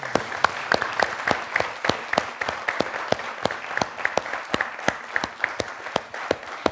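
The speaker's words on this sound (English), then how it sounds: "I'd like for you to join with me and applaud this inspirational team that's made something great" Audience applause for a panel team at a university energy event rolls on for several seconds, with individual claps sharp and distinct in a moderately sized room.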